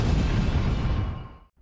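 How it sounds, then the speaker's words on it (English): An explosion at the BP oil refinery in Texas City, a loud, deep roaring blast that rumbles on and then fades to silence over a second and a half. "An explosion at the BP Oil Refinery in Texas City destroys an area of several thousand square yards."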